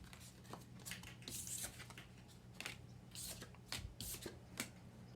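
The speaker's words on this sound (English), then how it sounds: "clumsy shuffling on my part," Tarot cards are shuffled by hand in a quiet room, with soft irregular riffles, slides and taps of the deck that end in a sharp clatter.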